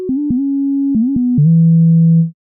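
A synthesizer lead patch designed in FL Studio Mobile, with detuning and pulse on, plays a short run of steady sustained tones, ending on one longer held low note, clear and alone with no talking.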